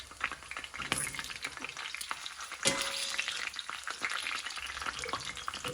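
Chicken flautas frying in oil, a soft continuous crackling sizzle with a few sharper pops and spatula taps, moderately quiet and without speech.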